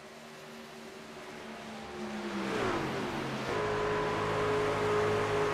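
A truck engine in a truck-series racing video game at Michigan drones steadily, pitch dipping then climbing as it revs higher, loud and continuous with a synthetic game-like tone.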